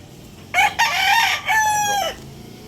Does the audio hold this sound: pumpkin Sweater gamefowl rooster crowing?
yes